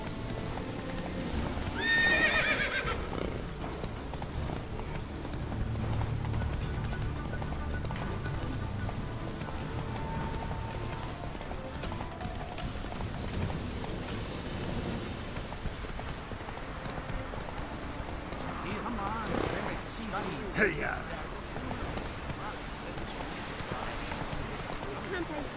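Horse hooves galloping in the video game The Witcher 3, a steady clip-clop run with an occasional whinny, mixed under game ambience and a person's talk.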